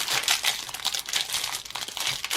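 A plastic wrapper on a baseball card hanger box pack crinkles and crackles up close, with repeated bursts of sharp rustling as hands struggle to tear it open, no voices.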